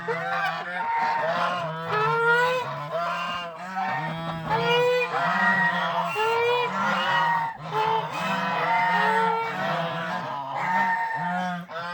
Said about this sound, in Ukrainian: От я підходжу до гусей, я тут бачу, гуси мене бояться